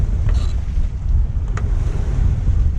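Strong wind buffets a Bavaria 41 sailboat in a fjord, a loud continuous low rumble of gusts across the microphone with bumpy water sloshing beneath, no voices.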